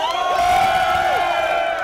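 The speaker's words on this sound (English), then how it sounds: "And the crowd, nothing but appreciative." A wrestling event crowd cheers and whoops in a sustained, loud roar of many voices, with a few rising shouts standing out.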